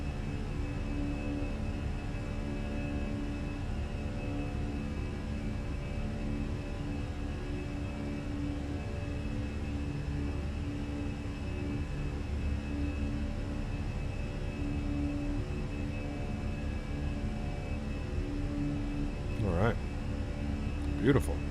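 Steady engine drone inside a Fenix A320 airliner in Microsoft Flight Simulator as it climbs out after takeoff from Orlando, a constant loud hum with a brief clatter near the end.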